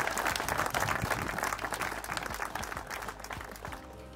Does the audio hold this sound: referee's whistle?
no